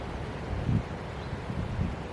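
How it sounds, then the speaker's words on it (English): Wind blowing outdoors in cold conditions, a steady low rumble buffeting the microphone with a couple of slightly stronger gusts. "Within the hour the wind got up."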